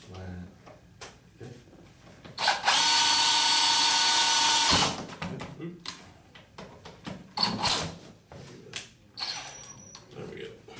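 A power drill drives a screw into a panel on a 1996-2002 Chevy Express van in one loud, steady burst of about two seconds, with someone talking before and after it.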